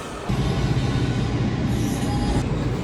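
A DC Metro subway train rumbles steadily and loudly from start to finish, with a low rolling roar and faint wheel squeal overhead, rising sharply after a brief quieter opening.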